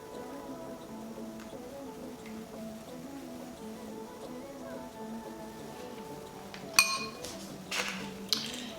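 A glass jar of flaxseed gel gets its lid fitted on, a few sharp clinks and light taps of glass near the end after a quiet stretch with soft background hum.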